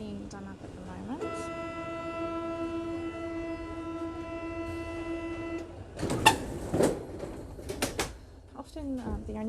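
A Paris Metro line 6 train: a steady, sustained whining tone holds for several seconds, then gives way to loud clattering, rattling bursts close by, with a voice talking over the scene.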